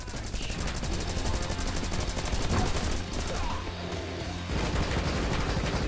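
A minigun fires in the co-op action game Rocketbirds: Hardboiled Chicken as a fast, steady rattle of shots over busy game noise, near and sustained through the clip with a brief thinning midway.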